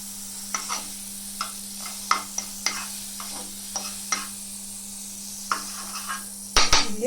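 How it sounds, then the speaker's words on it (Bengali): Butter sizzles softly in a pan while a utensil scrapes and taps against the metal in irregular stirring strokes, with a louder clatter near the end and no talk. "এর মধ্যে বাটারটা দিয়ে দিচ্ছি"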